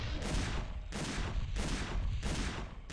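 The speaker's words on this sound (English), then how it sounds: "Shoot! Continue to fire, man!" Video game gunfire in a dinosaur survival shooter rattles in rapid, dense bursts, loud and close, with regular rhythmic pulses of shots and no talk over them.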